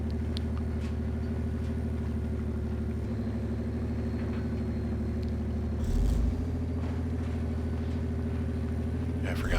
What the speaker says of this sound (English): Yeah, I forgot I was going a little too fast in this truck.